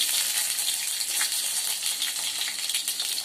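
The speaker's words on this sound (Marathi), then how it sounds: "आता तेल बघा झालंय गरम ना. त्यात आपण पहिला राई टाकायची. राई टाकली का त्यात एक मिरची टाकते" Mustard seeds and green chili sizzle and crackle in hot oil in a pan for a home-style Malvani yogurt kadhi, a dense close hiss with quick popping spatters and no talk.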